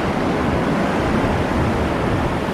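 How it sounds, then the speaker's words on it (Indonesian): Floodwater rushing through the streets of Mecca after an hour of heavy rain, a loud, continuous broadband roar that stays constant from start to end with no voices. "Dan hujannya hari ini hanya 1 jam terjadi banjir seperti ini, dan banjirnya cukup menakutkan."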